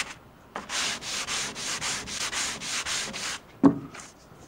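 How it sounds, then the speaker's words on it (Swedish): A wooden strip's edges are sanded by hand in a quick run of about ten rhythmic back-and-forth strokes, close and clear, ending with a short knock. "Jag tar på sidorna helt enkelt och slipar lite grann."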